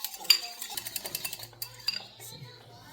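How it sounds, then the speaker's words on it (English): Egg whites are whisked in a bowl with rapid, light metallic clicks and taps in quick uneven rhythm, close and fairly quiet, without any talking. "you're going to whisk it"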